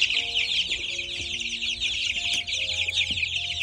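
Chickens on a home farm cluck and chatter continuously at close range, a busy overlapping flock sound with steady background noise.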